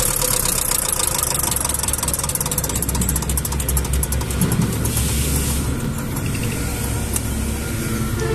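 A Yanmar tractor with a 20-horsepower engine idles steadily, a loud, close, continuous knocking rumble with a rhythmic mechanical chatter, with no voices.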